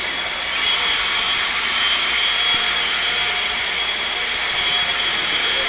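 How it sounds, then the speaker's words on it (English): Blowers run with a loud, steady airy roar that rises slightly after the first second and holds evenly, with no voices over it. "Marshals, grab those blowers."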